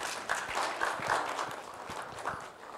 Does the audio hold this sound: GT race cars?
no